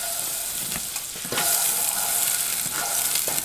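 Two tablespoons of butter melting in a pan over medium heat hiss and sizzle steadily up close, with small pops and spatters and a brief stir, and no talking.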